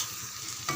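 Potatoes with green chillies and curry leaves sautéing in a pan for a potato fry, a faint, brief hiss of sizzling oil with a soft scrape of stirring near the end.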